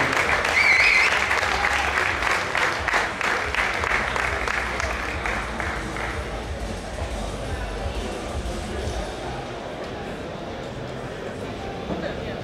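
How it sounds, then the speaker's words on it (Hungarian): Audience applause for a competitor at a fitness and sport show, loud dense clapping at first that gradually fades and thins over several seconds, with faint crowd murmur beneath. "még egyszer tapsoljuk meg a versenyzőt"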